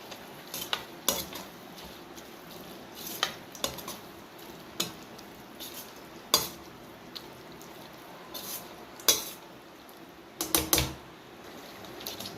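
Coriander, mint and curry leaves cook in a pan for a pepper chicken curry, a soft, steady sizzle under scattered sharp clinks and scrapes of a spoon against the pan at irregular intervals.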